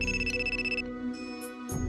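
A phone rings in the video game Trickcal: bright, repeating electronic ringtone tones in short bursts, clear and close over a soft background melody.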